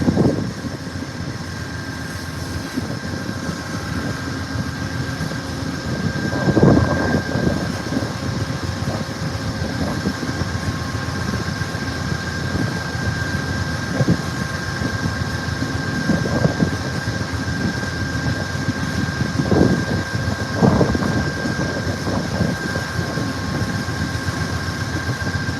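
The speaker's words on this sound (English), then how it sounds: "we got an eastbound coal train going through on Main 2" A heavy eastbound coal freight train rumbles past at night on a windy, cold evening in Ottumwa, Iowa, at a steady low roar, with wind noise, occasional clanks and a sustained engine drone throughout.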